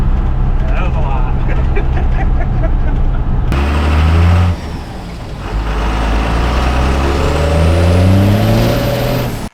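A Cummins-swapped 1978 Ford F250 truck engine roars close by under hard acceleration, with a deep, loud drone that climbs in pitch across gear changes and a brief dip partway through, with people talking over it.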